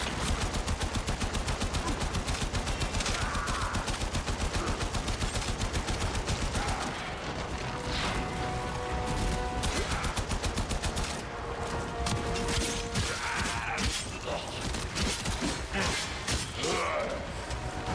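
Enemy gunfire rattles in Warframe: sustained rapid bursts of automatic shots run almost continuously, dense and loud, with brief lulls and game sounds mixed in.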